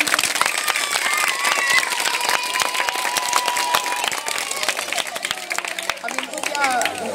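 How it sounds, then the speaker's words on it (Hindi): Loud audience applause at a women's health awareness programme, with dense, rapid clapping from a crowd, excited voices and chatter mixed in, tapering off toward the end. "तो फिर एक जोरदार तालियां बजा दीजिए"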